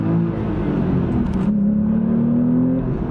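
A Porsche 911 with a 7-speed manual pulls hard, its engine pitch climbing steadily as it accelerates, heard from inside with a constant loud whir.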